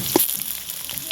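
Carrots and vegetables frying in a pan for a Bengali biryani make a faint, crackling sizzle with a couple of soft taps, brief and close.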